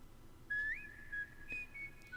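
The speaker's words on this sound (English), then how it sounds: "There's the whistle that they were talking about." A melodic whistled line from a K-pop song's intro: clear sliding tones that rise and hold, with a second phrase following a moment later, bright over a quiet backing.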